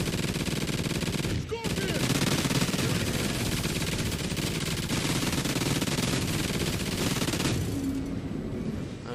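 Sustained rapid minigun fire in a co-op shooter game's alien extinction mode, a dense continuous roar of automatic shots running nearly unbroken and loud, with a brief gap early on.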